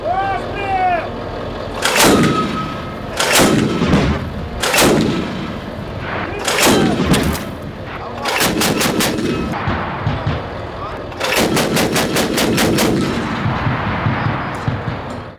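Heavy bursts of 25 mm Bushmaster autocannon fire from an M2 Bradley, several spaced volleys of rapid booming shots, loud and close, some as quick multi-round strings, with voices in between.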